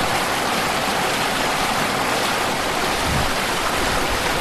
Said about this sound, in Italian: davanti a me una cascata bellissima